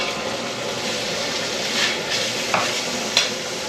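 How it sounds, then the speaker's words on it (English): Onions thrown into hot oil in a hand-hammered Chinese wok, a loud, dense sizzle filling the clip with a few brief scrapes near the end. "And we'll throw in the onions,"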